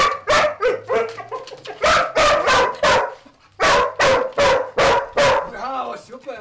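A search and rescue dog barks repeatedly in sharp, loud bursts during a training exercise on a rubble search, with short pauses between volleys and a couple of faint whines.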